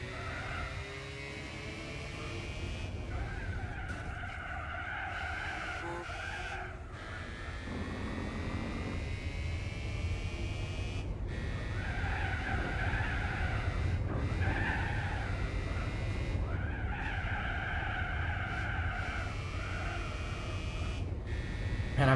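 Race cars in Gran Turismo 4 at the Nordschleife, engines droning continuously with tires squealing and skidding in shifting wails across the stretch, loud and steady with no talking.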